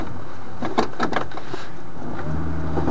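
A truck engine shifting into four-wheel drive while out on the ice at Blue Marsh, a loud close rumble with a few sharp clunks from the drivetrain, then a steady low drone.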